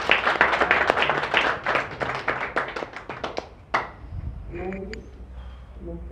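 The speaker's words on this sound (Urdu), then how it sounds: "تالیاں ہو جائیں، کافی دیر سے تالیاں ہو جائیں۔" An audience at a poetry gathering in Harlesden, London claps in a dense, close burst that fades after a few seconds, followed by someone speaking.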